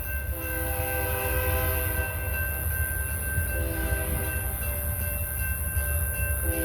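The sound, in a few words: BNSF train passing on tracks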